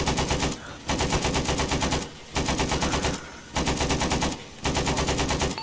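Machine gun fire in the ArmA 3 military video game comes in long sustained bursts of about a second each, separated by short pauses. The fire is loud, dense and rapid, with no talk over it.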